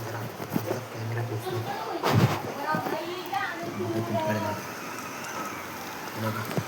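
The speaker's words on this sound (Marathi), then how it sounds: "पाऊस आहे, मस्त पाऊस आलेला आहे." Heavy monsoon rain falls as a steady hiss and patter outdoors, under someone talking almost continuously.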